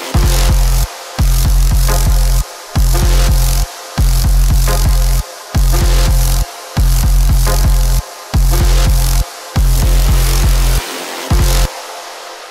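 A thick, deep bass pattern pumps in rhythmic blocks, cut by short regular gaps, with an EQ'd, sidechained, washy reverb tail swelling between the notes.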